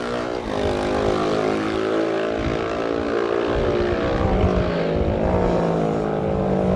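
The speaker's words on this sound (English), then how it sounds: "the next one in view is number 21, Grant Sellers, on a very realistic and nostalgic sounding Manx Norton" A Manx Norton single-cylinder road-race motorcycle in a classic race roars steadily nearby with a sustained, rising engine note across the whole stretch, without any voices.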